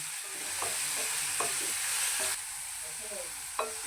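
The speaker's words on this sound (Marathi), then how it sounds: "चांगला कांदा गुलाबी रंगावर येईपर्यंत परतून घ्यायचा" Onion being sautéed in a pan for bombil masala, a constant loud sizzle with several spatula scrapes and taps against the pan at irregular intervals, and no voices.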